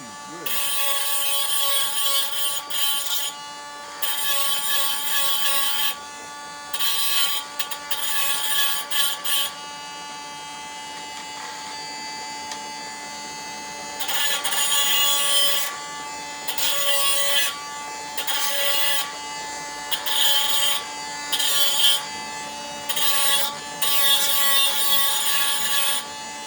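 A mini grinder polishes rocks in bursts of high, whirring, buzzing contact, broken by short pauses and varying in pitch as the stone is worked, close and moderately loud.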